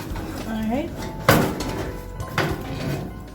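Metal roasting pan holding a Jamaican-style Christmas ham set into an oven: soft scrapes, then a loud metallic clank and a second lighter knock of pan on rack, close by.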